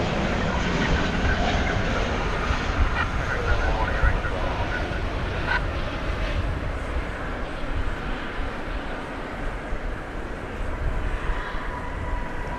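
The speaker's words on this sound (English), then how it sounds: "Those are 777 arriving from Phoenix, Arizona. American Flight 1679." An American Airlines Boeing 777 arriving from Phoenix at DFW Airport at night gives off a broad, continuous low rumble. The roar holds steady at a moderate distance throughout.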